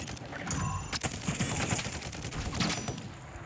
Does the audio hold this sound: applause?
no